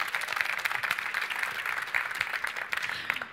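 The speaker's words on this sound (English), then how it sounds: "so you can applaud them" An audience at a Citroën press conference at the Geneva Motor Show claps for a band that has just performed, a brisk, fairly close round of applause with sharp individual claps.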